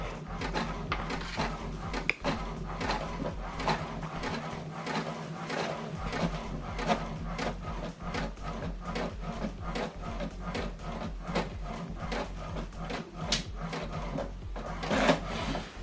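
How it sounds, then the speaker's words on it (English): An HP printer runs through a document print job, giving a steady mechanical chatter of repeated clicks and short rasping feed strokes, fairly close and continuous, with a louder burst near the end. "Okay, the second one is printing."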